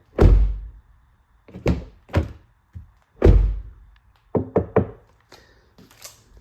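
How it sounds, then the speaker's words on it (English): The door of a Honda CR-V or Civic, fitted with sound-deadening treatment, is opened and shut several times. Deep, solid thunks alternate with lighter clicks from the latch and handle, close and clear with no talk. "the door handle, the way it sounds when you're opening and closing"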